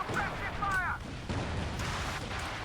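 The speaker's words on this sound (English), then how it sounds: "Another barrage at the land mattress" Land Mattress rocket artillery barrage in a World War II strategy game: a dense run of overlapping booms and rumbling blasts fills the short span, with a voice talking over it.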